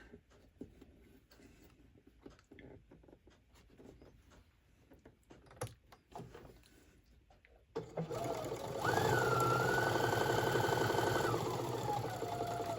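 A sewing machine chain stitches fabric tabs for a cosmetic pouch, first with scattered soft clicks and handling, then a loud, sustained mechanical whirr of continuous stitching close by.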